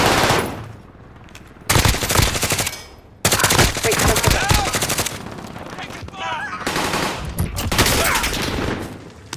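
An Armaguerra submachine gun fires in Call of Duty: Warzone on Rebirth Island, in loud, rapid automatic bursts broken by short pauses, with other game sounds in the gaps.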